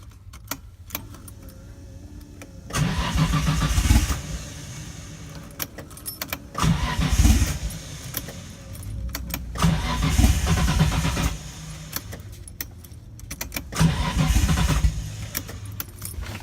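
A Datsun 240Z fitted with a turbocharged RB20DET engine cranks over in four loud, drawn-out bursts separated by short pauses, each one trying to catch and fire up.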